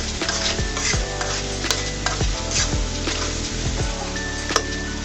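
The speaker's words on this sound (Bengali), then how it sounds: "সুন্দর করে আমি নেড়ে চেড়ে দিচ্ছি।" Spring onion stalks and shrimp stirred in a frying pan, a steady loud sizzle with repeated scraping strokes of the spatula against the pan, close up and without talk.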